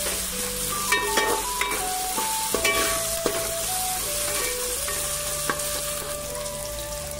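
Tomatoes frying in a pan for a Malvani-style clam curry give a loud, steady sizzle with occasional stirring scrapes, while sustained musical tones play in the background.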